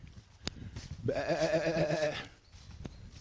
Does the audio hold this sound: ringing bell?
no